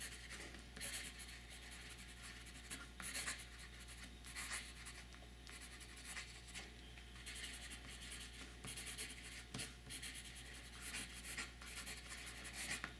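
A broad nib fountain pen scratches softly across paper in steady, continuous strokes. The writing is faint and close over a low hum, and no one speaks.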